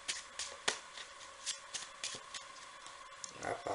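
A spectator shuffles a deck of playing cards, giving quick riffling bursts and soft rustles at close range in an intermittent rhythm, with faint talk under them.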